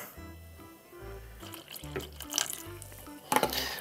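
Red cabbage water indicator liquid is poured into batter, a splashing, trickling pour that swells in short bursts over a quiet musical background.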